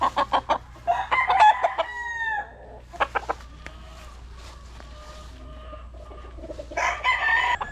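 A gray stag gamecock crows and clucks nearby, several sharp rooster calls early, a longer crow around the middle, then another burst of calls at the end, with no talk.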